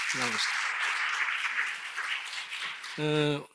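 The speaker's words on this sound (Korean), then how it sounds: "박수로 이 앞자리를 모시겠습니다. 박수 한번 크게 부탁드리겠습니다." Audience clapping at a talk concert during a university theology chapel service, a sustained wash of applause that swells and then fades, with short bursts of a voice speaking at the start and end.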